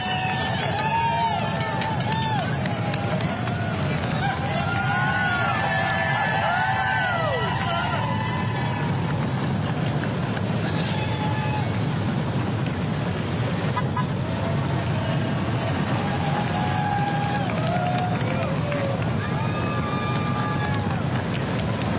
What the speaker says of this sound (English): Big crowd around this section.